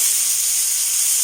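Green peas hit a hot pan of cooked vegetables for soup, producing a loud, steady, close hiss of sizzling that fills the whole moment without pause.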